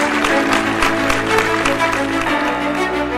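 An audience applauds an award winner at a scientific awards ceremony. The clapping is steady and dense, with music or a hum sustained underneath, and it holds its level throughout.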